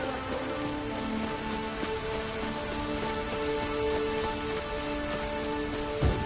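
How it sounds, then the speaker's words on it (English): Steady rain in the video game The Witcher 3: Wild Hunt patters across a surface, a dense continuous hiss with faint tonal hum beneath and a soft thump near the end. "It's raining."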